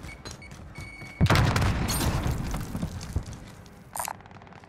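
A frag grenade detonates in Call of Duty: Modern Warfare with one sudden, loud blast and a rumbling tail. Lighter combat noise runs before it, and a brief sharp burst follows near the end.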